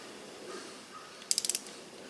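A ratchet wrench tightening bolts on a phone holder mount inside a 2012 Ford F150 truck, a quick burst of about five sharp clicks, close and alone after a quiet pause.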